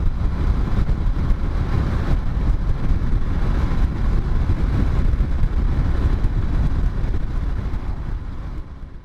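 A 2013 Can-Am Spyder ST three-wheeler cruises steadily at 55 mph in fifth gear with cruise control engaged, giving a continuous low engine drone mixed with heavy wind rush, loud and unbroken throughout.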